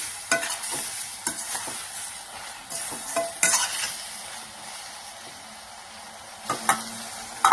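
Liver deep-frying in oil on a low to medium flame, a steady close sizzle broken by occasional sharp scrapes and taps of a utensil stirring in the pan.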